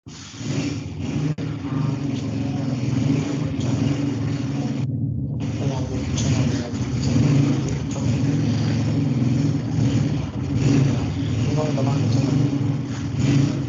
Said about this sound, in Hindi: आपकी तरफ से ना मोटरसाइकिल चलने की आवाज़ आ रही है।